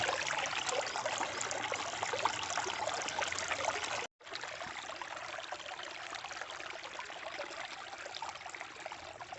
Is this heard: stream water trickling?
yes